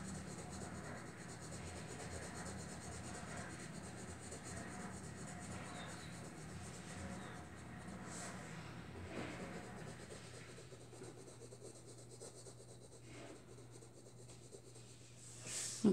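A green coloring pencil scratches across the pages of a Star Wars coloring book, a faint continuous rubbing under low background hiss and a steady hum.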